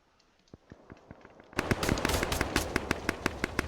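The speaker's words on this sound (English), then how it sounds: "Looks like there's a small firefight here." Rapid automatic gunfire crackles in an Arma 3 Zeus multiplayer firefight between NATO and AAF sides, starting as sparse distant shots and then swelling into a loud, dense burst of overlapping rounds.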